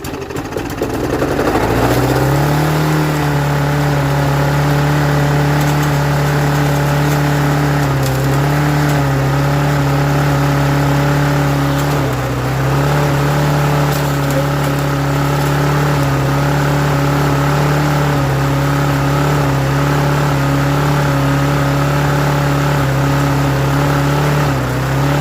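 Old engine with a blade brake, left ten years under a hedge, starts and then runs steadily with a loud, close mechanical drone and whirring tone that rises slightly and holds through the clip.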